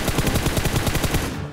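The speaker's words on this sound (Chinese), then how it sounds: "右边也有枪声" Rapid automatic gunfire in a battle royale video game, a fast, even burst of shots in quick succession, loud and sustained before cutting off.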